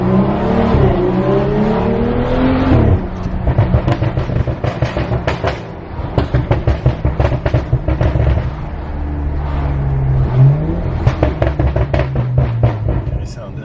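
A BMW F10 535 fitted with a new charge pipe revs repeatedly, loud and close, with rising engine sweeps followed by rapid crackling pops, while people talk between the revs.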